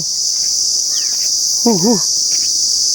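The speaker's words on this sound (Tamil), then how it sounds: "எங்கிட்ட பார்த்தாலும் சில்லுவண்டு சத்தம் தாங்க" Cicadas in a forest of large karuvelam (acacia) trees near Keeranur, Periyakulam, making a loud, steady, continuous high drone that fills the scene, with a brief warbling bird call heard partway through.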